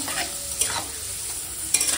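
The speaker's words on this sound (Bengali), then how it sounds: "এখন পাঁপড় ভেজে নিচ্ছি, এটা সাদা পাঁপড়" A white papad, a lentil wafer, fries in a pan with a bright steady sizzle, with a few brief scraping stirs over it.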